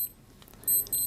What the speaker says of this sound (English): So here we go with snooze alarm.